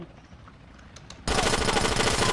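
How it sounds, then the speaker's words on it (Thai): Rapid automatic gunfire in GTA San Andreas bursts in loudly after a quiet stretch, a dense continuous rattle of shots that carries through to the end. "สามารถยิงปืนค้างได้นะ"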